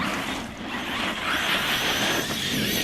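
A Hobby King Berserker RC car on a 4S battery whines past at high speed, a continuous buzzing motor with a hiss of tyres on the ground, fairly close and alone.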